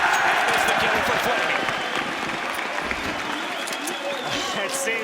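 Arena crowd at a BLAST Pro Series Lisbon 2018 Counter-Strike grand final between Astralis and Na'Vi, cheering and applauding in a dense, steady roar throughout, with commentary running over it.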